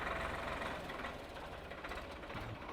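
A Swaraj tractor pulling a cultivator runs with a steady, low diesel rumble and a faint knocking rhythm. The sound stays close and continuous, with no voices over it.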